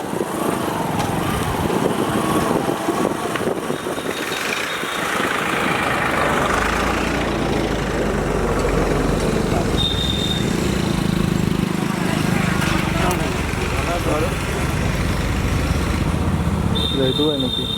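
A motorcycle engine runs steadily on the river drive road along the Padma at Rajbari, a continuous rumble under intermittent speech.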